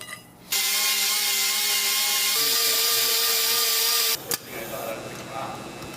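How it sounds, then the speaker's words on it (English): A bearing is tack welded onto a 1968 Ford Ranchero's axle shaft: a loud, steady electric welding buzz runs for about four seconds, then cuts off abruptly, leaving quieter shop noise. "We're going to commit the ultimate sin and tack weld the bearing to the axle itself to get home."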